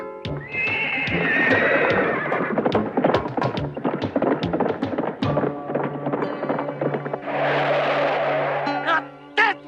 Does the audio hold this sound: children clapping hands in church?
no